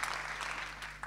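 An audience at a music performance applauds the singers in a short burst of continuous clapping over a low steady hum, with a couple of louder claps near the end.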